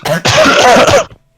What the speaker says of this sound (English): gonna cough as loud as possible